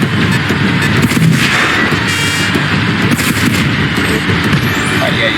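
Loud, dense gunfire and booming artillery-like blasts from the online shooter game FRAG, continuous volleys of shots filling the whole stretch without a break.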